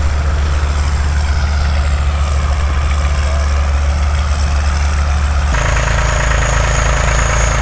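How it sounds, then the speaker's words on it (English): A Massey Ferguson 235 tractor runs steadily at a fall plow day, its engine giving a loud, close, continuous low drone with an even throb. The pitch shifts slightly partway through, and no talk is heard over it. "Here comes the Massey Ferguson back, the Massey 235"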